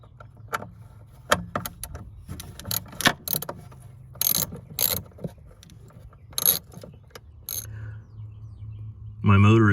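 Manually moving the pop-up headlight rod on a Lotus Esprit with a broken headlight motor: close, irregular metallic clicks, clunks and rattles in bursts, with a low hum underneath and a louder burst at the end.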